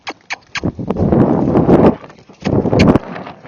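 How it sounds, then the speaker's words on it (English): A Tennessee Walking Horse cantering outdoors, its hooves striking the ground in loud, close, rolling clip-clop beats arriving in bursts, with some wind rush around them. "Canter."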